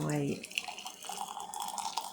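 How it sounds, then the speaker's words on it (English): Boiled kettle water is poured into glass jars of pears, a soft close splashing trickle that follows a brief fading hum at the start. "So all I do is just pop the water in."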